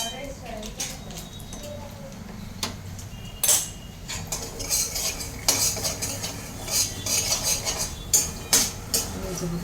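A spoon clinks and scrapes against a pan while stirring a mustard-seed, cumin, turmeric and coriander tempering for puffed rice, with irregular metallic taps over a faint sizzle as a person talks throughout.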